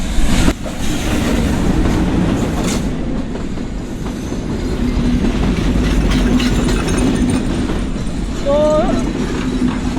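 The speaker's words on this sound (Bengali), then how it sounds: "আমাদের ট্রেন কিন্তু চলে এসেছে এই মুহূর্তে" A train pulls into Pakshi railway station near Hardinge Bridge, a steady rumble of wheels with some clatter, fairly loud throughout, a brief horn-like tone near the end and faint voices in the background.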